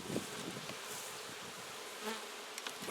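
Honeybees buzz steadily around a hive, their soft, continuous hum close and even, with occasional louder passes of single bees near the listener.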